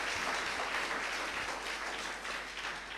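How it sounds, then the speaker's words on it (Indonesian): An audience in a church applauds in a soft, continuous wash of clapping that stays fairly even throughout, heard from a distance with no voices over it. "Yeah, please, a round of applause."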